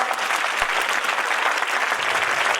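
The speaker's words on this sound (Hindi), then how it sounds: "जोरदार तालियां।" Loud, dense applause from an audience honoring world champion Sunder Singh Gurjar, an unbroken wash of many hands clapping close by with no other sound.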